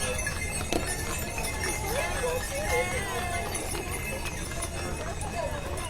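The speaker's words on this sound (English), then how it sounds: "Entry 404 is WJ Staggs, Wagons and Buggies." Horse hooves clip-clop steadily as horse-drawn wagons and buggies pass in a Christmas parade in Overton County, the clopping set against continuous outdoor crowd noise and murmuring voices.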